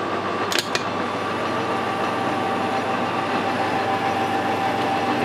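A metal lathe keeps cutting a workpiece with the steady rest backed off so the part is unsupported, giving a steady, loud continuous machining drone with a brief clatter near the start and no talking.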